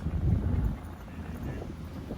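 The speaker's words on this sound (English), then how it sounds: "the steam engine's chugging away nicely here" Steam engine of the boat Oscar W chugging as it heads out from a wharf, a low, steady rumble under heavy wind noise on the microphone, heard close and continuous.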